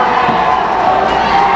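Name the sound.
home crowd cheering at basketball game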